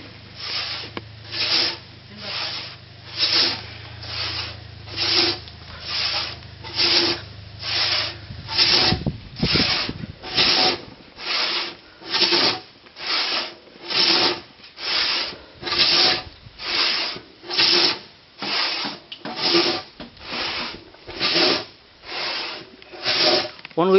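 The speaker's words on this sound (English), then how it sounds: "We are converting the timber by hand sawing." Steady back-and-forth hand sawing through wood, each rasping stroke evenly paced, about one per second, close and fairly loud with a low hum early on.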